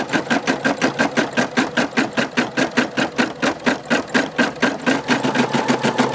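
An embroidery sewing machine stitches the last letter of lettering onto a patch, a close, steady rapid mechanical chatter in even pulses of about three per second, with no voices.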